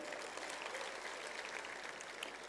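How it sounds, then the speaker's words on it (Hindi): A comedy show crowd claps together in a dense, even patter of applause, fairly distant and soft, holding steady without pause. "एक बार तालियां बजा दीजिए।"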